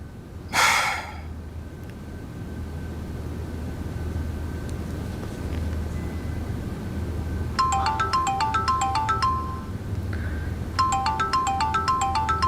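A mobile phone ringtone chiming in two bursts of rapid repeating electronic tones, moderately loud over a low background hum, preceded by a brief breathy sound.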